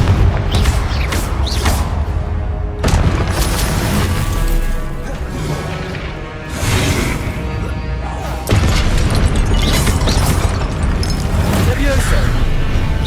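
Confringo spell explosions in Hogwarts Legacy on PS5: repeated loud fiery blasts and crashing impacts at close range, bursting again and again over a busy combat din while a voice calls out spells.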